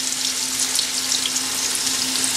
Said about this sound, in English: In a slow flame only I am fry this mushroom.